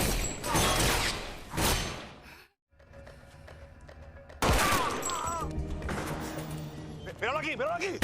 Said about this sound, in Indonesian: Baku tembak pun gak bisa dihindari.